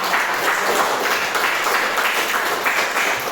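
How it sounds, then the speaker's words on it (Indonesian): Steady applause from a group fills the whole stretch, a dense, even patter of many hands clapping with no talk on top. "Mari kita tepuk tangan"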